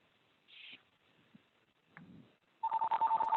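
A phone rings with an outbound callback call, a steady electronic ring pulsing near the end after a few faint clicks and small sounds. There is no talking.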